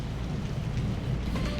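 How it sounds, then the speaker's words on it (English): Heavy rain pouring during a coastal storm, a dense, steady wash of rainfall with low rumbling underneath, close and constant with no voices. "So close, I can hear the rain on her."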